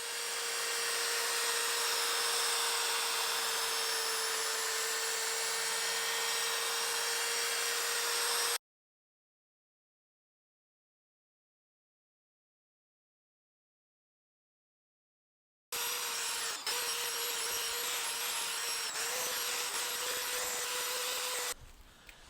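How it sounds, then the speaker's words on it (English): A twisted steel wire wheel on a power tool scrubs rust and built-up grime off the back side of a car wheel, giving a steady whirring abrasive grind. It stops for a long silent stretch, then starts again. "So these are the wire wheels that I found to be the best ones. These are like the twisted steel ones."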